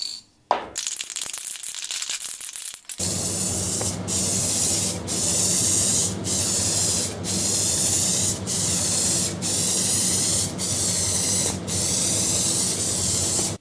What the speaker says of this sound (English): I'm using a red candy and I'm going to do a nice base over this metal flake.